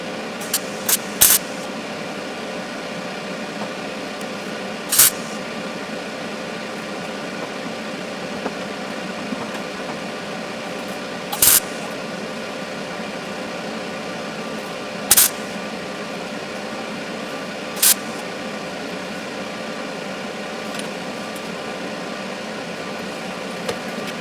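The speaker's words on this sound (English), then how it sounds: "one last look before I weld it up" MIG welding on a metal repair patch on a Honda CR-V body: a steady crackling, buzzing hiss runs throughout, broken by a handful of sharp clicks and pops, close up with no talking.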